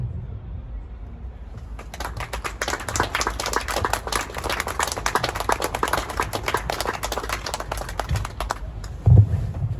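A live event audience applauds loudly and steadily for several seconds after a speaker's talk. The dense clapping rises in, holds, then fades, with a brief low thump near the end.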